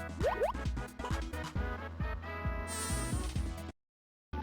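Game-style bleats from cartoon sheep in Super Mario RPG, a quick series of wobbly electronic baa calls over playful background music, ending with a bright chime and brief silence.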